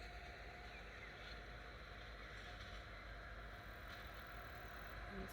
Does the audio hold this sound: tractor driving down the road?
yes